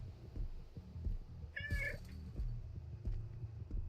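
A cat meows once in a single drawn-out, wavering cry, heard amid the steady rumble and clatter of a Dead by Daylight match.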